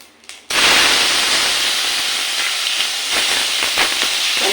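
Tomato dropped into hot oil tempered with cumin, bursting into a loud, sudden sizzle that holds steady as a close, hissing fry for several seconds, no talking.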